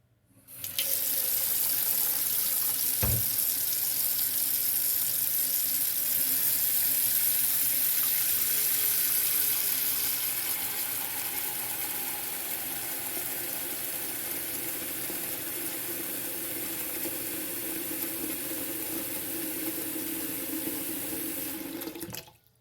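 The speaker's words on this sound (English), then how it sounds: "we're going to put water in our pot to the first line on the bottom" Tap water running steadily into a pressure canner pot, a continuous loud hissing rush that opens with a brief knock and eases a little partway through before cutting off, with no talk.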